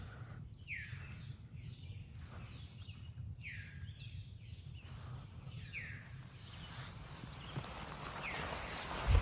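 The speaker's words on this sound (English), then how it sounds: "The birds are still singing." Birds sing in a wood of big oak trees, repeating short, bright chirps and whistled phrases at a moderate distance over a constant low outdoor rumble. There are faint rustling steps near the end.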